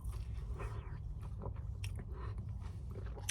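Crunchy, flaky bread crust is bitten and chewed close up, giving a run of crisp crackling crunches over several seconds with no talking.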